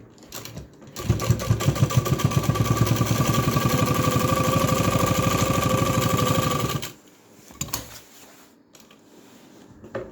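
A sewing machine stitches a button placket in one steady, rapid run of needle clatter lasting about six seconds. It then stops, leaving a quiet room with a few faint handling clicks.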